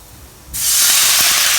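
A cup of water hits a hot non-stick pan while cooking a Chinese fish dish, bursting into a loud, sustained steamy hiss after a brief quiet moment, close and alone.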